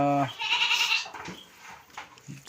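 A goat with worms and diarrhea bleats loudly with a wavering, nasal cry near the start, followed by quieter rustling and faint farmyard noise.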